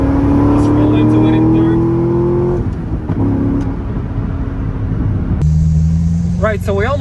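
Corvette Z06 with an LS7 V8 pulling hard in third gear, its engine note climbing steadily and loudly for a couple of seconds before easing off, heard from inside the car with a voice talking over the engine.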